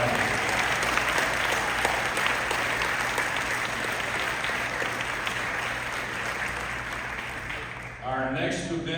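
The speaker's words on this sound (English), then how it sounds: "One last round of applause for Howard." At an award banquet, a room full of people gives recipient Howard Shotwell a sustained round of applause, dense and even throughout, and a voice begins speaking as the clapping ends.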